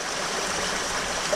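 Water flows in at the top of a shower-head filter chamber on a large koi pond, a loud, constant close-up rush and trickle that runs on steadily with no talk.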